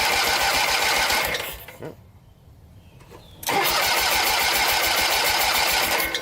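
An 8hp Briggs engine on a Jacobsen-HomeLite rear engine rider cranks and sputters, drops into a brief near-silent pause, then catches and runs steadily at a loud, rough idle nearby, with a single short word spoken.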